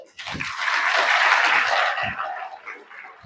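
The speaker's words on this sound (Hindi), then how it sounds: "ताली तो बजाओ।" Audience applause at a Brahma Kumaris gathering in Rajnandgaon, a steady wash of clapping that rises quickly, holds loud and even, then thins toward the end.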